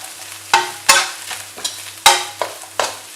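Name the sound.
cabbage and carrot frying with egg for chicken rice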